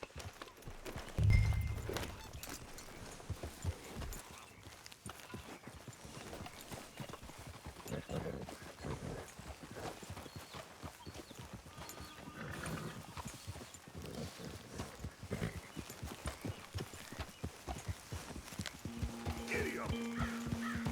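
Horse hooves clip-clop at a steady trotting rhythm throughout a ride in the Red Dead Redemption 2 video game, close and continuous, with a brief snort or neigh early on and characters talking over it.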